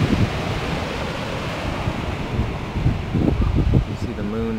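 From up on a hillside at night, waves wash onto a beach below in Anconcito on Ecuador's Santa Elena coast, a soft continuous rush mixed with wind, with a voice briefly heard near the end.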